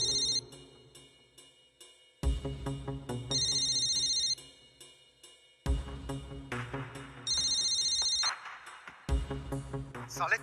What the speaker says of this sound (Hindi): अरे रोहित अपना फोन भूल गया